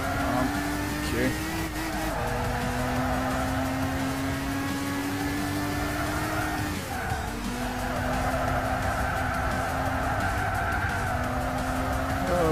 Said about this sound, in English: Oh, the sound of tortured tyres.